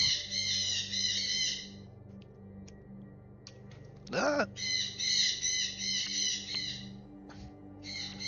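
Birds caw and squawk outdoors in a steady stream of harsh, chattering calls, briefly interrupted by a louder sharp squawk, heard clearly with no voices over them.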